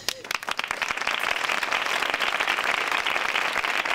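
Farewell applause from a crowd: dense, steady clapping close by that holds at full strength from start to end, with voices mixed in.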